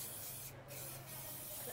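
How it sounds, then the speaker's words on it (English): Oil spray hisses onto chicken in a steady, close, continuous spray with a couple of brief dips, lasting under two seconds. "I'm going to be using an oil spray, just to lightly spray the chicken"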